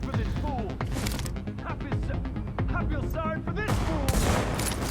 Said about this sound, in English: Man, I'm having a hard time shooting.